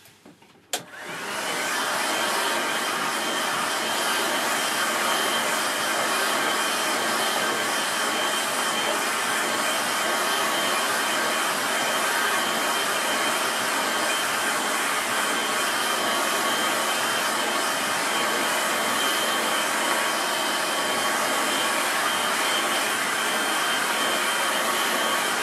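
A hair dryer drying a watercolour painting starts abruptly after a brief click and runs as a steady, loud, unbroken whoosh for the rest of the time, with nothing else heard.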